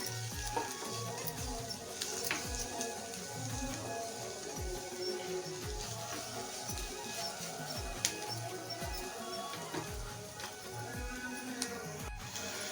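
Onions, chillies and tomatoes frying in hot oil after a cumin tempering: a soft, steady sizzle with a rhythmic run of low scraping stirs, plus faint background noise.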